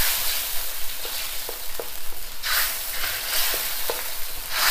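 Beef steak fries in a pan Cantonese style, a steady close sizzle with occasional crackles and pops and stirring scrapes, heard alone without talk.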